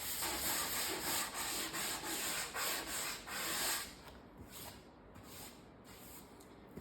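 Hand sanding to bevel an edge at a 45-degree angle during a taxi restoration, steady rhythmic rasping strokes, close and loud at first, then lighter and softer toward the end, with no talking.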